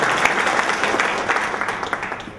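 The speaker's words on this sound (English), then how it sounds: "if we can give a round of applause to Anish" An audience at a college speech event at Macalester College in St. Paul, Minnesota, breaks into dense, continuous applause, with many hands clapping at once in a sustained wash of sound.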